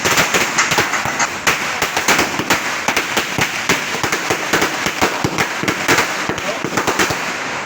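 A chain of firecrackers crackling loudly at home after a church feast, with rapid, uneven bangs bursting continuously throughout.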